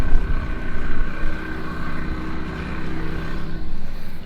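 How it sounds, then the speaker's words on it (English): An outboard engine mounted on a sailboat's dinghy runs steadily nearby, a continuous droning motor hum with a slightly pulsing loudness and no talking. "the engine is on the dinghy"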